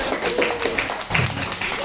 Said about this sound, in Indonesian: Jadi tepuk tangan dong buat Anda semua.